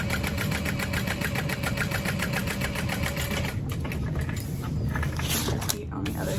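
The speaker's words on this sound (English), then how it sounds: "We're going to sew along that top" A sewing machine stitches steadily along the top curve of a circle bag with an overlay panel, its fast, even needle rhythm running close and loud for several seconds, easing and stopping near the end.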